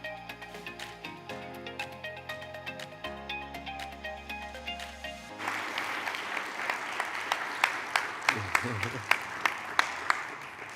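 An audience at an annual meeting applauds honored resilient clients. A short musical tune plays first, then steady, full-room clapping takes over and carries to the end.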